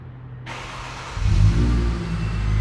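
A Mercedes C300 with its muffler deleted cranks and fires up on a warm start, a brief starter whir giving way to a low, rumbling idle that swells briefly, then settles, close by with no talk.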